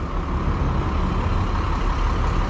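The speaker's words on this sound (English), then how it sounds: "And we have a school bus." A school bus rolls past on a small-town main road, a steady heavy engine rumble with road noise holding loud and close for the whole stretch, no voices.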